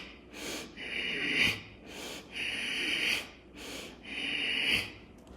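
Three deep, forceful breaths drawn into the upper chest, each a loud airy inhale or exhale lasting about a second, close to the microphone with short pauses between.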